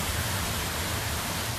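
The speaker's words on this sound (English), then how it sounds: "A little rain." Light afternoon rain falls steadily, a soft, even hiss of drops that holds at the same faint level throughout with no voices or other sounds.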